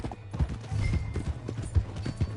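Horse hooves gallop in rapid clip-clop rhythm in Red Dead Redemption 2, a close, steady run of thudding beats lasting a couple of seconds with faint ambient game sound.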